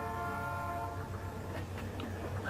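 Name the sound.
approaching train with horn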